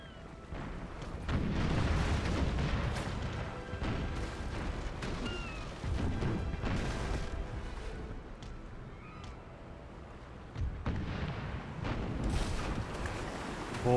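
Naval broadside fire from sailing warships in Empire: Total War, dense rumbling cannon booms rolling over one another with low thuds and a busy battle din throughout.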